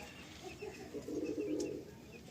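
A Madrasi pigeon of an old line gives a soft, low coo in a short burst midway, faint against quiet room noise.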